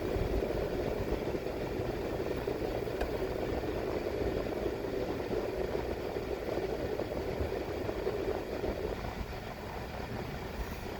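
Steady, loud engine and road rumble from a car driving into May Pen, a town in Clarendon, Jamaica, a continuous low drone with no pauses and no talking.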